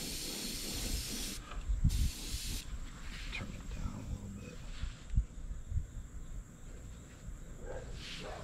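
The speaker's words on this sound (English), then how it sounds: "And I got the compressor up a little bit higher than I normally probably would." An airbrush spray gun runs on a compressor set higher than usual, giving a steady soft hiss of compressed air with a louder spurt near the start and some faint murmuring under it.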